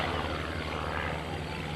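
A Midwing Special propeller airplane flies over an air show, its engine and propeller giving a steady, loud, broadband drone that holds without a break.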